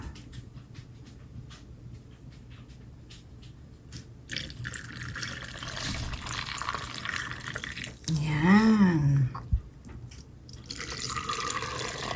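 Cooled liquid for cassava suman is poured at home, a soft, steady trickling and splashing that runs for several seconds beside faint kitchen handling noises.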